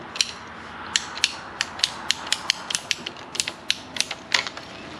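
Ratcheting pipe cutter working through PVC pipe of up to 1.5 inches: a steady series of sharp, close clicks in an uneven rhythm, about a dozen or more ratchet snaps over a faint background.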